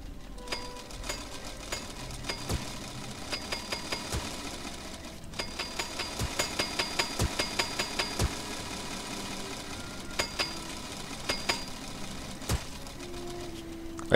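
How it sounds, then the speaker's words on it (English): A drill chews through a column in the video game Portal Knights, giving a steady mechanical whir with repeated clicking impacts, moderately loud and continuous, with no talking over it. "Where's my drill? Ah, there it is. Should be quicker."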